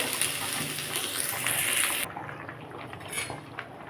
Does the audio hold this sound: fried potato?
yes